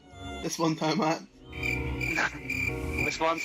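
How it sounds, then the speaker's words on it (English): Crickets chirping in a steady, close pulsing trill running under and between voices and other sounds, with a person speaking at times. "I'm pretty sure there's crickets below me now playing"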